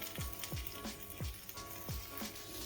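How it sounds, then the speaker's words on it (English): Chicken fried steak shallow-fries in oil, with a soft steady sizzle and a regular series of low thumping pulses underneath, quiet and close, with no voices. "So while the steak's cooking, I'm just going to oil it again"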